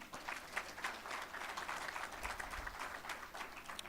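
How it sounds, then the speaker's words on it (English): Conference audience claps for a digital transformation panel at a summit in Diani, a steady, moderately distant round of applause filling the room throughout. "So a lot of applause for our team"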